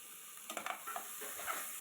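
Vegetables sauté in a pan, a soft, faint sizzle broken by several quick scraping stirs, with no voices.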